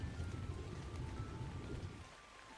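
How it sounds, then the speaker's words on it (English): Steady rain falling in the video game Ark on the Ragnarok map, a dense, even hiss with low wind rumble that fades slightly toward the end. "Why does it rain so much on Ragnarok?"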